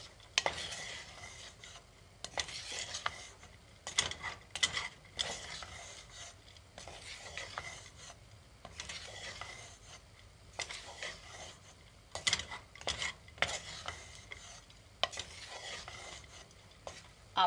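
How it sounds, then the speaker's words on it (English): A spoon stirs poha ingredients in a pan over low heat, with repeated scraping and clinking strokes against the metal in an uneven rhythm and a soft sizzle underneath, close and fairly quiet. "I'm going to set the heat down to 1 and just stir and combine all the ingredients"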